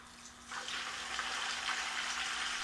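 Water swirling inside a plastic tornado bottle, a steady rushing, gurgling wash that starts about half a second in and continues evenly, close and moderately quiet with no talking.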